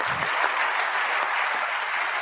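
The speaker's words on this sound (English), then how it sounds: "let's once again thank Mr. Ankur Garg with a warm round of applause" An audience at a management conclave gives a warm round of applause, loud and dense, sustained evenly throughout, with a short low thud near the start and no voices heard.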